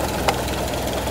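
A Toyota 4K engine idles steadily at about 750 RPM at normal operating temperature, giving a constant low hum with one faint tick, close by and with no speech.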